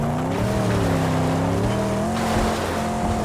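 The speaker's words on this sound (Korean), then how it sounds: "너무 차가 계속 미끄러져" A car skids and slides in the Mad Max video game, a loud, constant engine drone with a wavering tire-squeal tone rising and falling throughout.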